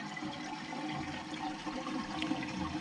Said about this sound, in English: Then you're going to go ahead and flush the toilet.